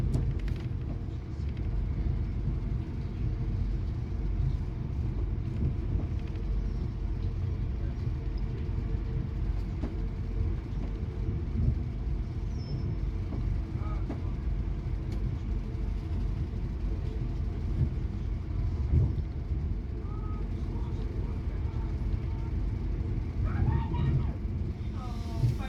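A multiple unit train climbs the steep Lickey Incline in Britain, heard from inside the carriage as a steady low rumble and drone that holds evenly throughout with no talk.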